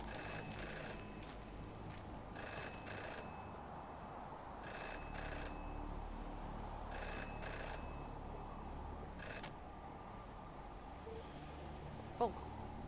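A telephone rings in the video game Jenny LeClue, with four evenly spaced double-burst rings over a quiet, low ambient hum.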